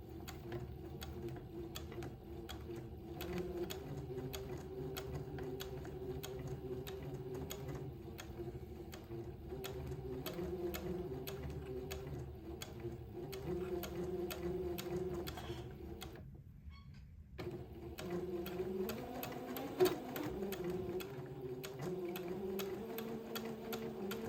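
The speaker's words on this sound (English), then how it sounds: "I'm going to sew a straight stitch to the top of the fabric, just maintaining a 1/8 inch seam allowance." Domestic sewing machine running a straight stitch along the top edge of fabric for a twin daygown, a steady mechanical whirring with rapid ticking that pauses briefly midway, then resumes.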